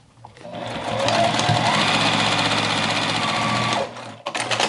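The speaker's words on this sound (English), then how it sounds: "Sewing the sides." A sewing machine stitches the sides of a denim tote bag made from old jeans. It whirs in a steady, loud, close run for about three seconds, then stops, followed by a few brief clicks and handling sounds.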